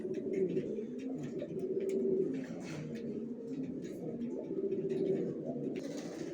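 Young adult racer pigeons coo repeatedly, their low rolling calls rising and falling in bursts over several seconds, close by, with faint chatter and rustling around them.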